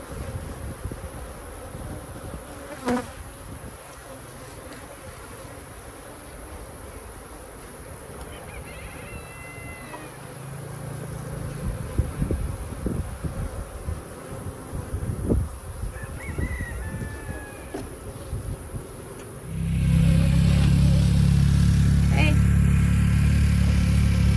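Steady buzzing from many honeybees around an open beehive hovers close by, with scattered handling noises and brief voices; a louder low rumble swells in near the end.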